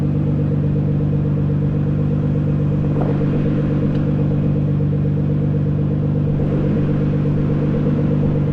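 Nissan GTR fitted with Boost Logic midpipes idling, a loud, steady deep burble with a constant low pulsing drone, recorded close up, with no voices.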